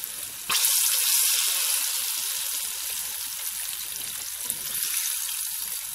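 Chicken sizzles loudly in a hot frying pan, a steady crackling hiss that starts abruptly and keeps going with small pops. No one speaks.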